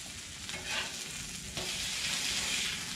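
Steak searing on a hot griddle, a dense, steady sizzle of meat frying, close and loud throughout with slight surges and no speech.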